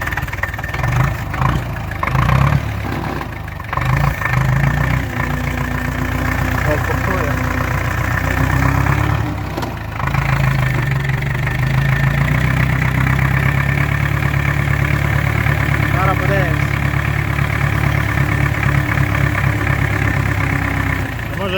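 Homemade tractor fitted with a ship engine, its heavy low engine drone running continuously up close and loud, rising and falling in revs, with people talking over it.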